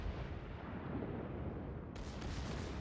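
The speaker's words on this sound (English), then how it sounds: "And I've launched my torpedoes." Torpedoes launch from the Scharnhorst battleship in World of Warships as a dense, rumbling roar of booming artillery-like blasts that runs continuously, with a sharper, brighter burst cutting in near the end.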